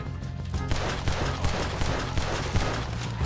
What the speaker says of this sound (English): suppressing fire for you, Dutch